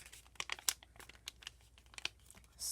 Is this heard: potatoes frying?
no